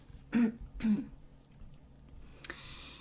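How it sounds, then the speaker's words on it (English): Two short, rough coughs in quick succession, close by, followed by quiet and a faint rustle. "probably you're gonna hear me sneezing and coughing"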